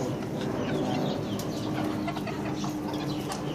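Bantam chickens in a backyard coop give scattered short clucks over a steady background hum, several birds calling irregularly at close range.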